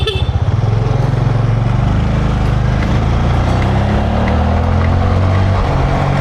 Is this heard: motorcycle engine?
yes